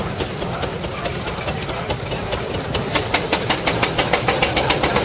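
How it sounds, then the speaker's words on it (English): A steam traction engine at a steam rally chuffs in a steady, quickening rhythm, loud and close, its regular exhaust beats rising over a rumbling mechanical drone. "Another of our general purpose engines coming along."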